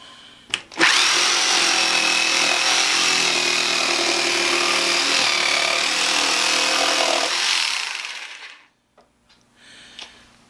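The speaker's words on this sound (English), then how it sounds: "That cuts through that 2x4 like nothing." Skil Classic jigsaw, a 3.2 amp Model 4395, cutting through a 2x4: a loud, steady buzzing cut runs for about seven seconds after a couple of knocks, then winds down into near silence with a few faint clicks.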